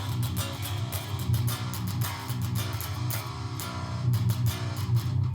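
Electric guitar playing a riff with full chords, palm-muted and distorted, a steady chugging rhythm with sharp repeated picked attacks, loud and close, no voices.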